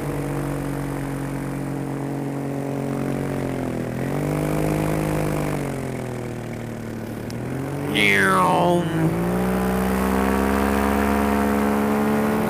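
Small aircraft engine droning steadily in flight on a foggy day, a continuous loud hum with shifting pitch and a brief swooping whine near the end.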